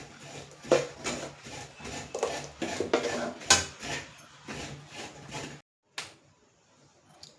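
A spoon mixing sugar into dosa batter in a bowl, giving a steady run of clinking, scraping strokes against the vessel that stop abruptly near the end, followed by a single faint clink.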